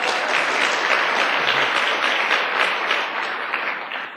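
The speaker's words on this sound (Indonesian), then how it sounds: "Aplaus buat Anda semuanya." Sustained applause from a seminar audience at a motivational talk on multi-level marketing, a dense, steady wash of clapping that fills the room throughout and tapers slightly toward the end, with no talking over it.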